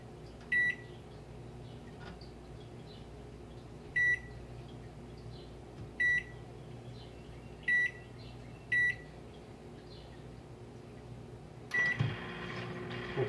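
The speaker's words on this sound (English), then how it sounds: "Put it in the microwave for about" A microwave oven hums quietly while melting peach cobbler ingredients in a bowl, with five short beeps at regular intervals and a louder clatter near the end.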